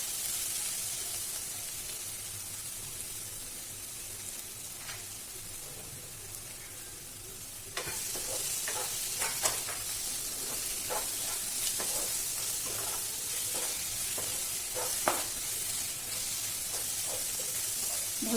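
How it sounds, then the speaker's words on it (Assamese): Mutton frying in a pan with red chili, coriander, garam masala and cumin powders, giving a steady close sizzle and hiss that grows louder partway through, with scattered crackles and stirring knocks. "লাহে লাহে ভালকৈ ভাজি ল'ম।"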